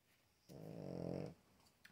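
A dog lying down and snoring indoors gives one low, rumbling snore that lasts under a second against a quiet room.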